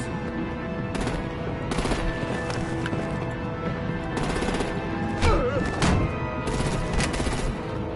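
Rapid bursts of artillery and gunfire in a Batman video game, sounding as repeated crackling volleys over a dense, busy battle soundscape with galloping-like clatter and other game noise, fairly loud throughout.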